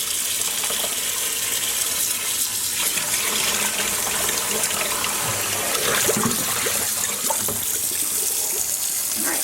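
Tap water runs steadily into a sink while hand-dyed yarn colored with Rit liquid dye is rinsed. The flow is a continuous close gush, slightly uneven from moment to moment.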